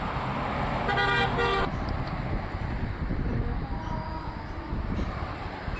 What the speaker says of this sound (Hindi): आपको उन रंबल स्ट्रिप्स के ऊपर से अपनी गाड़ी का टायर लेके जाना है तभी ये ध्वनि सुनाई देगी